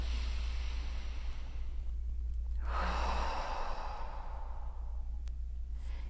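Slow, deep diaphragmatic breathing demonstrated in a physical therapy stress-relief exercise: a long, airy inhale swelling into a fuller exhale, close to the mic over a steady low hum, with no talking.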